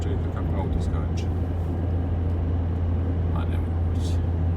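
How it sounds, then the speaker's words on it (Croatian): A car rolling over newly laid, uneven asphalt, with a constant low engine and road rumble, plus a few faint knocks and rattles as the car bounces, heard from inside the cabin. "Pravac čovječe, vidite kako auto skače."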